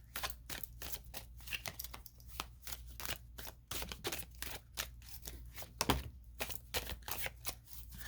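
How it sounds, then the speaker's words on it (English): Tarot cards are shuffled in quick, repeated riffling bursts, soft, crisp flicks in an irregular rhythm, heard close and fairly quiet with no talk. "shuffle is finished"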